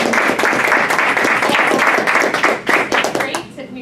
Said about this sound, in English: I want to give a round of applause to our very newest member of the club